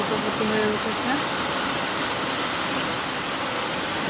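Rain pours over a rooftop garden of flowering plants and vines, a steady, even broadband hiss that holds at the same level for the whole stretch, with faint voice-like traces under it.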